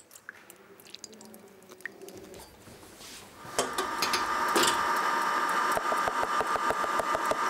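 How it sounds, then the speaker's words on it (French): Egg whites being whipped with caster sugar for a Royal Chocolat dessert: a quiet start gives way to a steady whirring drone with rapid rhythmic ticking that continues to the end. "nous allons donc commencer par monter en première étape les blancs d'œufs"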